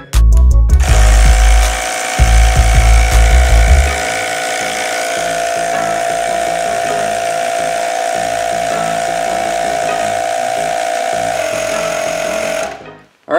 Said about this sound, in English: Now when it does reach 32 PSI, this pump will actually shut off, so that way you'll know when it's done.